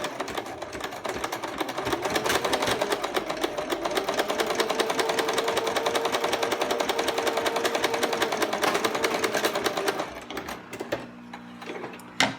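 A sewing machine stitches a 5/8-inch waistband seam in a steady, fast, close mechanical whir for about ten seconds, then slows and stops with a few clicks and handling noises.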